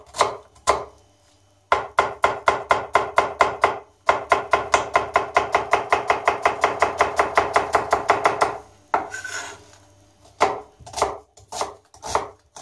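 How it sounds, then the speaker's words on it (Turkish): Rapid, regular knife strokes chopping an onion finely on a cutting board, close and crisp, in several long runs of quick taps separated by short pauses, with no talking. "Önce bir soğanımızı doğrayacağız. Soğanımızı tam biraz ince doğrayacağız."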